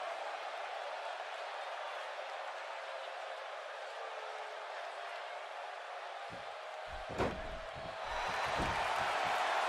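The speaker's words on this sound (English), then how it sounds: "Would you listen to this crowd?" Steady crowd roar fills a wrestling arena in the video game WWE 2K17, a continuous wash of cheering with a few sharp thuds near the end, after which the noise swells a little louder.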